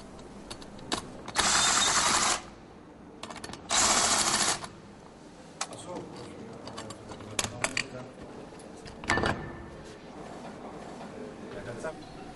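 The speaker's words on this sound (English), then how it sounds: "Open the clamp terminal between the junction unit and the trunking unit and remove the clamp terminal." A clamp terminal is worked loose and removed from Siemens BD01 Sivacon 8PS busbar trunking, giving scattered close metallic clicks and ratcheting taps, with two longer bursts of harsh scraping noise among them.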